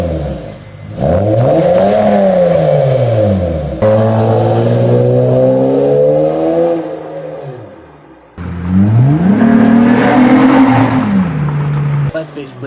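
A car exhaust with a straight pipe in place of the muffler and resonator, finished with a welded oval tip muffler, revs up and down in several loud, close throttle blips that rise and fall in pitch.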